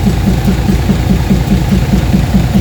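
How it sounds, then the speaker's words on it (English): Two Cummins diesel engines idling smoothly, a loud, close, steady low rumble with an even rapid pulse throughout and no talking. "2 smooth running Cummins"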